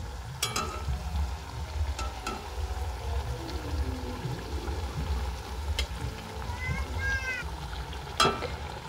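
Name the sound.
raw potato snacks frying in oil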